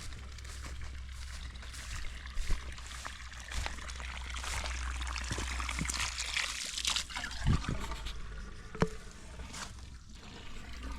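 Water trickles and dribbles steadily from a leaking wicking garden bed for several seconds, a soft continuous splashing with a low hum underneath and no voices.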